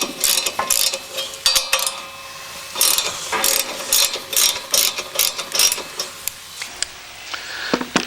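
A ratchet clicks repeatedly while loosening 1/2-inch lock nuts on an AWS Airbar rotary screen clean-out, in quick close bursts of ratcheting separated by brief pauses.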